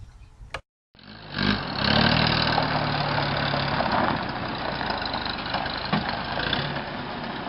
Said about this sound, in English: Here's a World War II Jeep.